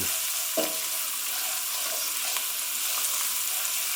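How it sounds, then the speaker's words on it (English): Garlic fries in a pan for a chard and spaghetti dish, a steady close hiss of sizzling oil with a brief clatter near the start and faint stirring scrapes. "Don't fry the garlic for too long, we don't really want it to burn."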